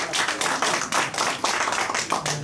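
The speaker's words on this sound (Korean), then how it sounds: "박수 부탁합니다." A roomful of people at a clinical ultrasound research society meeting claps steadily and loudly, the brisk overlapping claps forming a sustained burst of applause with no talk over it.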